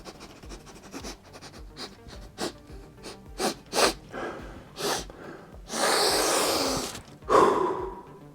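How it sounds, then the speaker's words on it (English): A person sniffs repeatedly at a freshly unboxed Warhammer Underworlds board game, sending close, sharp nasal inhales in an uneven series, with a longer breathy huff and a snort near the end. "let's come in for the sniff test."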